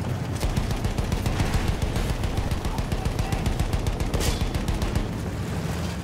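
Relentless rapid machine-gun fire in the World War I shooter Battlefield 1, a dense continuous rattle of shots with heavy low rumble underneath, loud and unbroken, with no talk.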